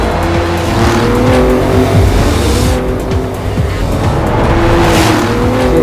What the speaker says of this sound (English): this one is a 2-liter turbo petrol engine with 280 horsepower